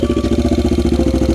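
A Yamaha XS400 motorcycle engine fitted with a Six Sigma jet kit idles steadily up close, its even, rapid firing pulses keeping a smooth, continuous rhythm with no talking.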